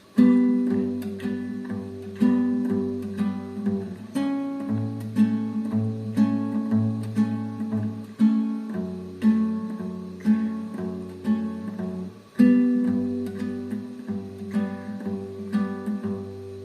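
Acoustic guitar strumming a steady chorus chord progression, even rhythmic strokes with chord changes every few seconds, close and clear, no voices.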